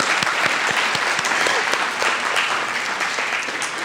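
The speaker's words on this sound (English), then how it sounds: "let's give a round of applause for Faith" An audience at an indigenous climate justice symposium panel claps steadily and warmly for several seconds, a dense even round of applause filling the room.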